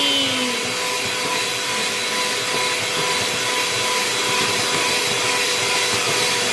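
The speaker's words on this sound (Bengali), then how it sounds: "ওখানে ক্রিম ব্লেন্ড হচ্ছে" Electric mixer blending cream for a birthday cake, a steady loud motor whine with a constant high hum running throughout, close by and with no talk.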